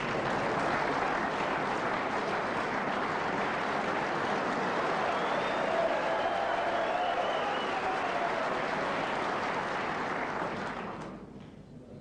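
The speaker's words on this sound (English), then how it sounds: "Great cheer from the crowd" A crowd at a snooker semi-final cheers and applauds, a loud, sustained wash of clapping and cheering that holds for about ten seconds before fading away.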